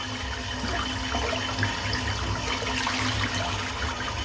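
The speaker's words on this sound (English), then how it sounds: "Rinse the brush out." A shaving brush rinsed under a running tap, a steady close rush of water splashing without a break.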